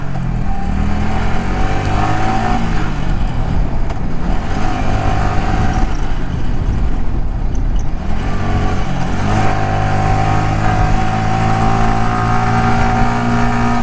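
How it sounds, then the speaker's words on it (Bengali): A vehicle engine labors loudly in first gear on a steep mountain road, a constant strained drone with shifting pitch throughout, close and unbroken, with no talk over it. "এক নম্বর গিয়ারে নামতেছি যদিও শব্দ একটু বেশি হচ্ছে"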